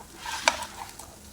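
Chopped tomatoes cooking down with onions in a pan for a coriander chicken curry, a soft low sizzle broken by one crisp spatula scrape against the pan and a few lighter stirring touches.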